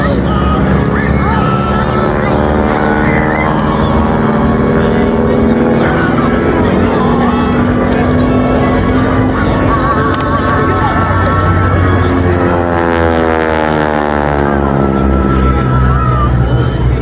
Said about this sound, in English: you get the sound of that beautiful Pratt & Whitney radial engine